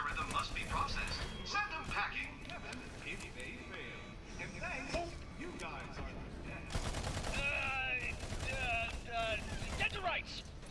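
Assault rifle fire in the shooter game Battleborn, bursts of rapid shots crackling over busy game effects while someone talks steadily over the action.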